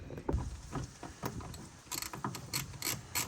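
Ratchet wrench loosening 10mm bolts that hold a headlight assembly during a xenon bulb replacement, a few quiet bursts of rapid clicking with short pauses between, close by.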